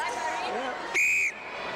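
A netball umpire's whistle at a 1995 World Cup match between New Zealand and South Africa gives one loud, steady blast of about a third of a second over crowd murmur and faint commentary.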